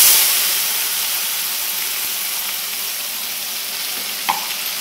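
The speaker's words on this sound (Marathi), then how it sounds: "आता फोडणी देऊन घेते" Mustard seeds, cumin, curry leaves and a ground masala paste hit hot oil in a tempering, making a loud, steady sizzle and hiss that continues unbroken, with a faint clink near the end.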